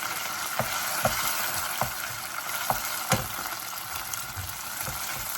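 Chopped onion frying in a pan for a beef or chicken curry, a steady close sizzle punctuated by intermittent clicks and taps of stirring, no voices.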